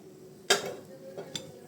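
Boiled noodles are tossed with a chili oil spice mix in a kitchen, with one sharp utensil clink followed by a couple of lighter knocks and soft stirring over low background noise.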